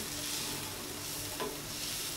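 Turmeric and spices are stirred in a hot pan for an egg muffin recipe, giving a steady sizzle with a soft scrape of the spoon partway through and no talk.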